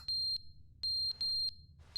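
A fire alarm in The Stanley Parable video game, shrill piercing beeps of uneven length repeating close and loud against a low hum.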